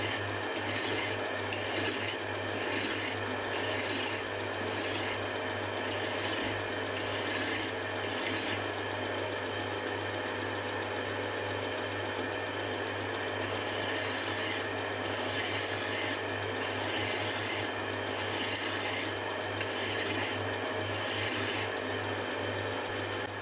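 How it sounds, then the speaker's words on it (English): A hand file rasps steadily over a machined steel spindle adapter for a tool grinder, rounding the transitions between its cylindrical and conical sections, in repeated close back-and-forth strokes over a constant low hum, with no talking. "The transitions between the cylindrical and conical sections were rounded off with a file."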